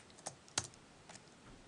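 A computer keyboard is typed on while code is entered, a few sparse, close keystroke clicks with one sharper tap amid quiet room tone.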